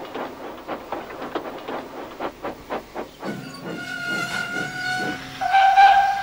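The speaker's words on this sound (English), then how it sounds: "Whistled Edward." A steam locomotive chuffs in quick rhythmic puffs, then lets out a hissing release and a loud, sustained steam whistle near the end.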